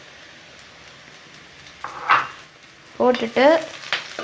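Cleaned curry leaves go into a hot pan and begin to sauté, a quiet sizzle that rises into bursts of crackling and stirring clatter, with a brief spoken word partway through.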